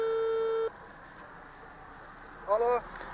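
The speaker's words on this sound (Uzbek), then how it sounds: "Hozir men telefon qilay." A steady electronic telephone tone plays while a call is being placed on a phone, then cuts off; a brief voice follows after a pause.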